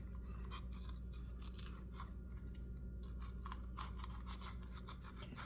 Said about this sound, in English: Cut the peppers.